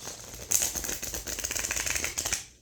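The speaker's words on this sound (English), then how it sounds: "Let me just give this a little shuffle because I can't not." A deck of cardstock cards gets shuffled up close: a quick run of crisp riffling flutters and rattly snaps, building and then trailing off into quiet.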